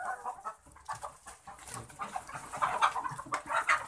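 Shaver layer hens on an egg farm cluck and squawk continuously, a busy overlapping flock chorus at close range with no talking.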